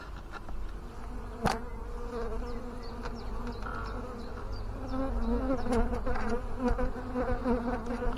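Honeybees buzzing during a beehive inspection, a close, continuous droning hum that swells slightly louder toward the end, with a sharp knock partway through.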